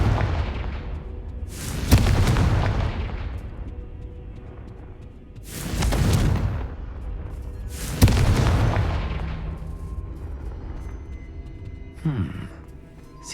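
Booming Confringo spell explosions from the Hogwarts Legacy video game, four heavy blasts spaced a couple of seconds apart, each with a long rumbling decay.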